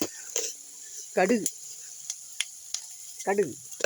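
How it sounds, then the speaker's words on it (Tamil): Fenugreek seeds splutter in hot oil for an onion sambar, with a thin, steady sizzle broken by sharp isolated pops. Brief voice-like bursts can be heard in the background. "வெந்தயம் பொரிய விட்டுக்கணும்"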